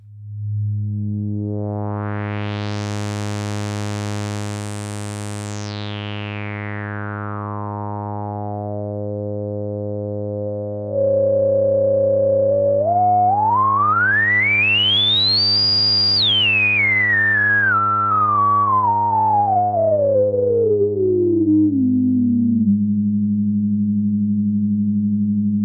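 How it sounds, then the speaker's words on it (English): A Behringer 121 dual filter module pushed to high resonance and self-oscillating, producing a pure electronic tone over a low drone that sweeps slowly up to a shrill peak and glides back down, loud and steady. "With higher resonance settings, most filters start to self-oscillate, which means they output their own sound even without any input."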